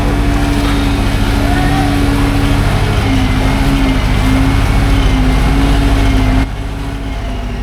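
Vehicle engine idling steadily with water in its silencer on a flooded road during monsoon rain, a low, even drone with a wavering tone that drops off near the end.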